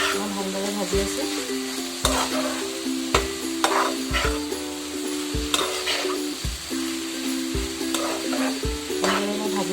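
Chicken meat frying in oil, a loud close sizzle with regular scraping strokes of a spatula against the pan roughly every second, stirring in a steady rhythm.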